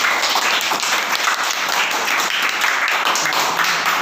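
A dense burst of applause from a group of schoolchildren in a classroom, steady and loud throughout, with no other sound standing out.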